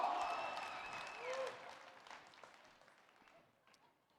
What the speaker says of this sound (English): Let's give it a round of applause just for those 3.